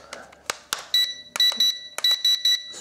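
Beeps from an Eachine H8C mini drone transmitter signalling its speed mode, heard as several short, bright, evenly spaced electronic beeps in quick groups, close and clear, with a few soft clicks between them.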